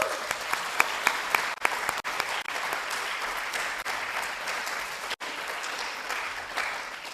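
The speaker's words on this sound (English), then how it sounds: "Please extend them to your thanks and your applause." An audience at a closing conference session applauds the interpreters with sustained, even clapping, a few sharper individual claps standing out above the crowd.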